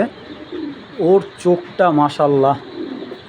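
Racing pigeons coo softly in a loft where a pair is feeding young, a low murmuring under a man's close, steady speech.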